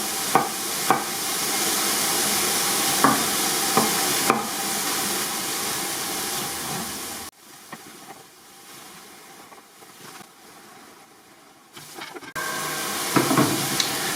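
Onion cooking gently in a pan, a steady close sizzle with a few stirring knocks, dropping to a quieter hiss midway before the louder frying returns.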